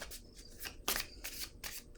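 Tarot cards are shuffled and drawn in quick, crisp riffling bursts, close and fairly quiet, repeating in a loose rhythm with one sharper snap near the middle.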